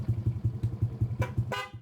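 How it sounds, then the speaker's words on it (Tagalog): A vehicle engine chugs in a steady rhythm, then two short horn beeps sound close by near the end. "Sige nga, busina ka."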